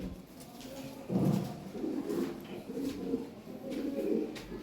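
Lahore siraji pigeons at a sale coo in low, soft, repeated murmurs close by, a steady cluster of throaty calls with no talk over them.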